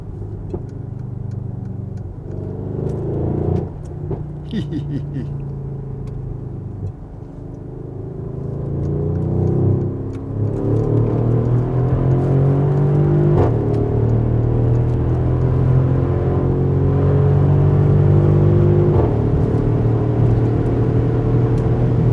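A 2016 Mercedes-AMG GLE 63S Coupe (C292) driven in Sport Plus mode. Its engine drones and climbs through revs from inside the cabin, with a few brief crackling pops over the steady rumble and no talking.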